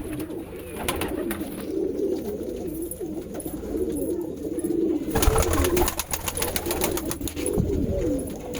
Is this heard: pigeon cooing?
yes